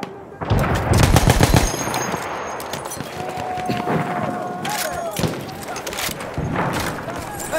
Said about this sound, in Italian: Mitragliatrice!